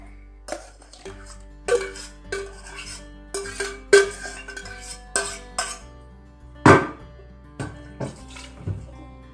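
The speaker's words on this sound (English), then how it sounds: "I'm just going to add it to this cool little bowl." A spoon moves cooked porridge into a small bowl with a series of close, separate clinks and scrapes spread across several seconds, with soft, steady tones running underneath.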